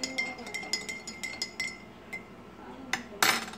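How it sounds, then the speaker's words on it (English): A spoon stirs sugar into a cup of coffee, clinking against the sides of the cup in a quick series of bright, close taps, then pauses and finishes with a few harder final clinks. "And you stir it up."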